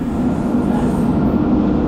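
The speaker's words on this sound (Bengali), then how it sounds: "এই কিন্তু আমাদের ট্রেন ঢুকছে একদম টাইমে" A steady low rumble of an electric train with a high-rise pantograph arriving at a station rolls in continuously, a dense mechanical drone with no voices.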